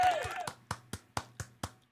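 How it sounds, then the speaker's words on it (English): A slow golf clap: about six sparse, evenly spaced hand claps at close range, following a brief burst of talk at the start. "Golf clap."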